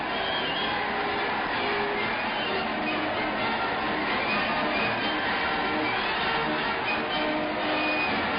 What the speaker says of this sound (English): the George Cross Islanders thronged the streets, cheering and clapping through the 7 hours the tour lasted